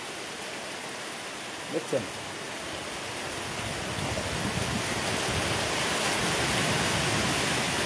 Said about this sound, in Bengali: আর বৃষ্টির সাথে সাথে হাওয়াটাও বইছে